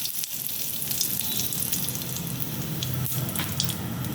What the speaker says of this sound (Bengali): তেল গরম হয়ে গেছে, সেই জন্য আমি এখানে অল্প হিং ফোড়ন দেব।